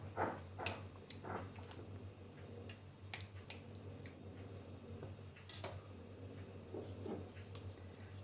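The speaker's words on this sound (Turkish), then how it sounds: "Yine dipte boşluk kalmaması adına havasını almak adına bıçakla kenarlarından çektirerek tekrar düzlüyorum" A knife scrapes and taps along the inside edges of a glass jar packed with roasted eggplant, giving scattered faint clicks and scratches over a low steady hum, with no talking.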